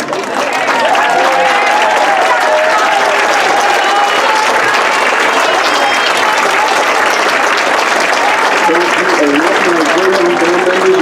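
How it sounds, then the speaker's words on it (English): Band alumni of the Wilmington Band draw a warm, sustained round of clapping from the audience at a July 2021 band night. The applause stays loud and even for the whole stretch, with some voices mixed in. "please stand to receive a warm round of applause for their contributions to the Wilmington Band"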